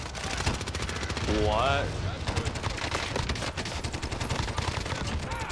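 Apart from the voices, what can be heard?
gunfire in a video game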